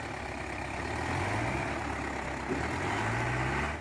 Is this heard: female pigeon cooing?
no